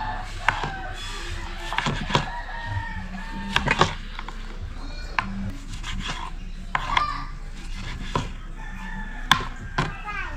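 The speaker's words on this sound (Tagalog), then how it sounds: "Hiwain na rin po natin mga kaibigan ang ating mga ricado para sa ating sinabaw." Knife chopping onion, chili and lemongrass on a board for soup, irregular sharp knocks close by, with a rooster crowing and faint background noise.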